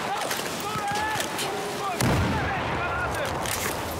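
In the Battlefield 4 video game, a hand grenade goes off with a heavy boom partway through, amid continuous gunfire and battle noise.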